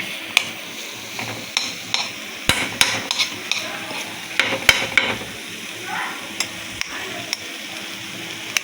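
Onions and green chillies sautéing in a pan before eggs are cracked in, with a steady soft sizzle and repeated sharp scrapes and clinks of a spatula stirring against the metal, fairly close and without talk.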